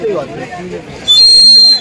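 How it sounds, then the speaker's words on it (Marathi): Murmured voices give way to a loud, bright warbling trill from a water-filled wooden bird whistle, bubbling and chirping for most of a second. "या चिमणीत पाणी टाकल्यावरतीच असा आवाजाचा साऊंड टोन भेटेल आपल्याला"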